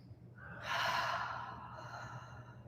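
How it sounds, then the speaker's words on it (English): One long, breathy exhale close up, rising quickly then trailing off softly, with no talking. "Go ahead and do some audible exhales."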